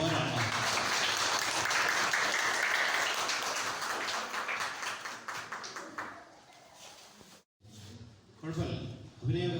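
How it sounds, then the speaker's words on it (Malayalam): An audience at a higher secondary school's annual meet in Pallimon gives a dense round of applause, which thins out after several seconds. Talk follows the applause. "കയ്യടി പോരാണ്."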